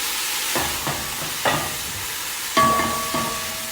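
Crushed garlic and hot pepper sautéing in a pan, a steady low sizzle under a handful of sharp stirring scrapes and clinks spread across the stretch.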